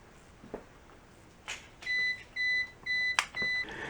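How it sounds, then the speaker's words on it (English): An APC Back-UPS 450 uninterruptible power supply sounds its alarm as a series of five or six short, shrill electronic beeps in an even rhythm, close and fairly loud over a quiet room with faint handling noises. "okay, you've got that alarm turned off"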